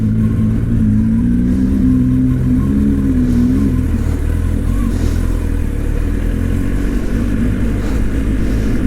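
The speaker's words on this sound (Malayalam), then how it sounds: "ഇതിൻ്റെ ജസ്റ്റ് സൗണ്ട് നിങ്ങൾക്ക് കേൾപ്പിച്ചു തരാം." A 2025 Kawasaki ZX10R motorcycle's engine and exhaust rev loudly and up close, with a deep throbbing roar that rises and falls through several throttle blips before settling into a steady, rumbling idle with no talk.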